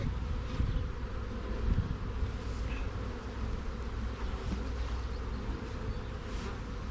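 Steady buzzing of many honey bees swarming close by at a hive, a dense continuous hum with no voices.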